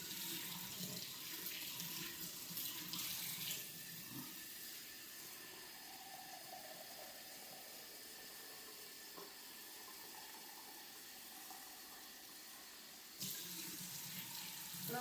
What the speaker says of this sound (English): then you add 3 cups of hot water.